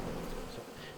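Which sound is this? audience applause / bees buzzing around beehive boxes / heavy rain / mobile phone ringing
bees buzzing around beehive boxes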